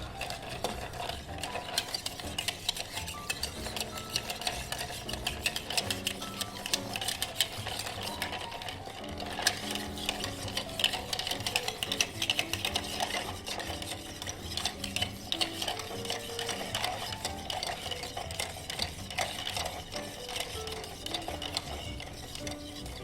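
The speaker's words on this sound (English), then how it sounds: "we're just going to stir that down over ice" Bar spoon stirring a rum and maple old fashioned over ice, with steady rapid clinking and rattling of ice cubes against the glass, continuous and close throughout.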